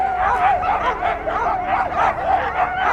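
Dozens of sled dogs bark, yip and whine all at once in a dense, continuous chorus, loud and close with no pauses.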